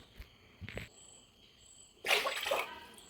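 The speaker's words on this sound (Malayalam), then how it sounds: "3 കപ്പ് വെള്ളം ഒഴിച്ചു" Water poured into a cooking pot for egg rice: after a mostly quiet stretch with a couple of faint knocks, a short, close, splashy pour runs for about a second at the end.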